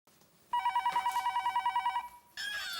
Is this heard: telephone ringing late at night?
yes